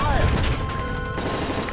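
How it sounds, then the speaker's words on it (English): Rapid gunfire rattles in a dense burst during a plane hijacking scene in Call of Duty: Modern Warfare 3, loud and continuous over rumbling action noise and brief shouts. "That's gunfire!"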